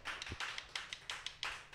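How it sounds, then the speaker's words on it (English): Faint, sparse clapping from a small audience at a comedy show. A handful of distinct claps, somewhat distant and quiet, with no talking over them. "Applaud for that."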